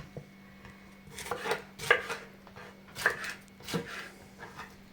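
Onions being cut with a knife for homemade ketchup, a handful of short dull chops and scrapes spaced irregularly over a steady low hum, fairly close and moderately quiet.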